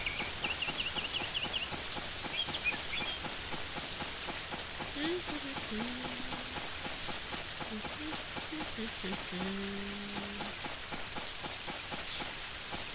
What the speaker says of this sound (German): ich finde es gut, dass es regnet.